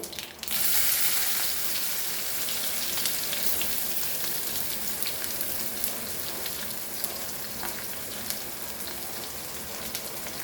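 Onion sizzling as it hits hot oil already holding mustard and cumin seeds, for Goan eggplant bharta; a steady, loud crackling hiss that surges at the start and carries on with scattered pops, no talking.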